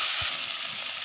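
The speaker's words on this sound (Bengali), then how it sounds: "এখানে গোটা গরম মশলা দিচ্ছি ওই তেলের মধ্যেই।" Whole spices such as cardamom, cinnamon and cloves sizzle in hot oil for tempering, a steady bright crackling hiss that stays loud and close for about a second.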